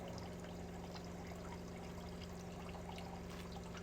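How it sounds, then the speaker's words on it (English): Maple sap pours steadily from a reverse osmosis bucket, a constant close trickling stream under a low machine hum. "You got a lot of sap coming out."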